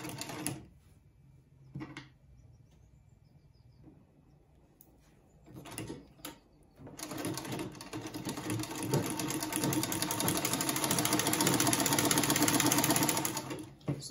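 A sewing machine stitches a trouser pocket down along its crease line, with a few soft handling clicks and taps first, then a fast, steady mechanical whirr of stitching that runs close and loud to the end.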